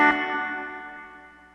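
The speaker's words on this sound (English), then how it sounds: "The original signal, now with reverb." One bright instrumental note struck once, then a long smooth reverberant tail that slowly fades away.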